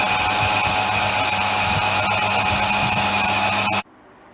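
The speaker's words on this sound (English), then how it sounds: "there's our mount holes for the existing manifold drilled through" Power drill boring mount holes through a metal manifold mount on a BSA Bantam, a steady loud whine with a constant pitch that runs unbroken for nearly four seconds, then cuts off abruptly.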